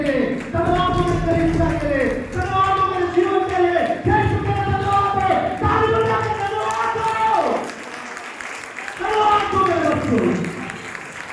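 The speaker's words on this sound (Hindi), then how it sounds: "ताली बजा के" A church congregation claps hands during Sunday worship. Rhythmic clapping runs beneath a loud voice that sings or chants in long, pitched phrases, with brief pauses between bursts.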